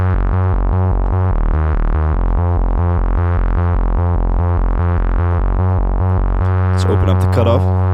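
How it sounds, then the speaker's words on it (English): Warm, gritty synthesizer bass line preset called Bass Dial for modern trance, a loud steady pulsing pattern of short repeated notes with octave jumps, alone, ending in a brief burst of bright swept noise. "Bass Dial is a really warm and gritty bass line,"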